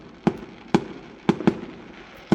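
Fireworks bursting on Bonfire Night, five sharp explosive bangs at irregular intervals, two in quick succession near the middle, loud and fairly close against a low background rumble with no talk.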